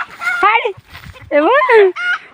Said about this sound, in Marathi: केवढ्या उड्या मारतात त्या कोंबड्या पण